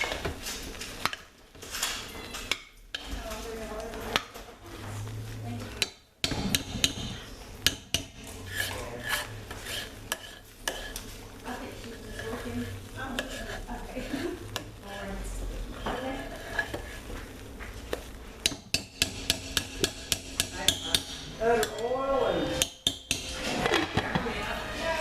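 Hot process soap stirred in a cooking pot on heat, a spoon repeatedly scraping and rasping against the pot in irregular strokes with occasional clinks, close and fairly loud, with some talking.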